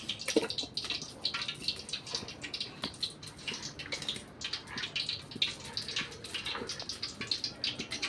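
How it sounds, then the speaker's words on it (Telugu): Water sloshes and splashes in a bowl as raw chicken is rubbed and rinsed by hand, with drips and small splashes throughout; close, no speech. "2 times అలా కడుక్కొని నీట్గా శుభ్రంగా పెట్టుకోవాలి"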